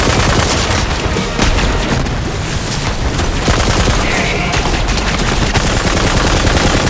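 Heavy gunner firing in Borderlands 3, loud sustained bursts of rapid automatic gunfire with booming impacts, dense and continuous for several seconds.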